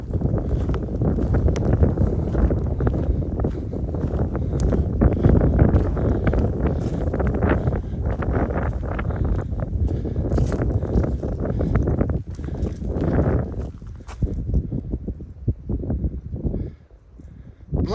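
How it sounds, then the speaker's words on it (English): Wind roars steadily across Bly Gap, a mountain gap on the Appalachian Trail in Georgia, buffeting the microphone loudly for most of the stretch before easing slightly near the end. "It's windy up here."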